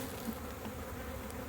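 Honey bees buzz around full hive frames during a honey harvest, a steady, soft droning hum that stays even throughout with no voices.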